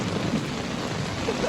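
Stormy downpour on a Malagasy river, rain hissing steadily and close, with a low rumble of thunder blending into the continuous wash of sound.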